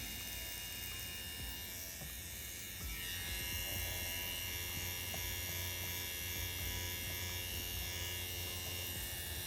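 An InkClaw 2.0 grip tattoo machine packs black ink into a silicone practice skin slab, giving a steady close electric buzz that holds unbroken throughout, with no speech.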